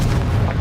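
A Confringo fire blast spell erupts in Hogwarts Legacy, a dense low booming burst that rumbles steadily for a moment, loud and close with no pause.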